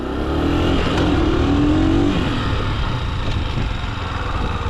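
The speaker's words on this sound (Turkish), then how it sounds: "Burada hızlanarak ikinci vitese atabiliriz." Motorcycle on a licence exam practice course, its engine revving up in first gear, then briefly dipping as it shifts into second and pulls on at a steady drone; fairly close.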